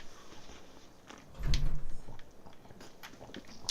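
A game character in Fallout 76 takes a quick gulp of a drink: one short, close swallowing sound mid-clip over a low, soft background hum.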